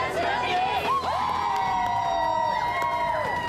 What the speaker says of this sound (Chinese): 来，请给这位敬业乐业的阿姐谢柳星一个鼓励的掌声。